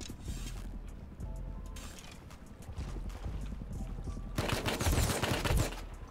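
Rattling automatic turret fire in the survival game Rust sounds as dense, crackling bursts, steady and fairly close, swelling into a louder, harsher volley near the end with little talk.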